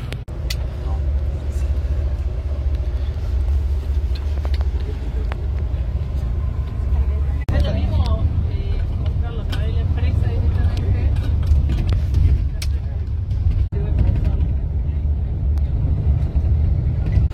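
A bus engine rumbles through a ride near Rishikesh, a steady low drone that holds for the whole stretch, with faint rattles and muffled voices inside the cabin.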